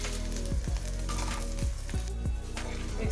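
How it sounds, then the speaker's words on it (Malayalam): Fried cauliflower tossed in a hot pan with green chilies and curry leaves, a steady close sizzle and crackle with a few short stirring scrapes, no voices. "നമ്മൾ ഫ്രൈ ചെയ്ത് വെച്ചിരിക്കുന്ന കോളിഫ്ലവർ ഇട്ട് കൊടുക്കാം."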